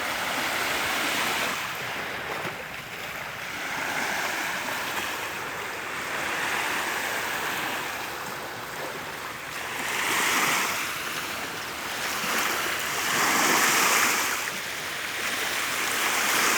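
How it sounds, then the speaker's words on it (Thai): Waves wash onto the sea shore at Bang Lamung beach near Pattaya, Thailand, as a steady surf roar that swells and recedes over wind noise, with no voices. "คือบรรยากาศครับผม ชายทะเลบางละมุงเนาะ"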